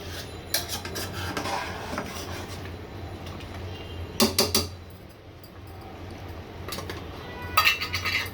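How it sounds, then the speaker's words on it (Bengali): A spoon scraping and clinking against a pot while korma with pistachios is stirred, a few quiet metallic knocks and rasps spaced apart over a soft steady background. "এই পর্যায়ে এসে আমি কিছু পেস্তা বাদাম দিয়ে দিচ্ছি, নেড়ে চেড়ে দিচ্ছি।"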